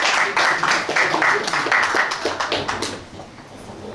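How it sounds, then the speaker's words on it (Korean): Audience applause at a book concert, a dense run of many hands clapping fairly close and loud, steady for about three seconds before thinning out toward the end. "교수님 박수로 부탁 많이 하겠습니다."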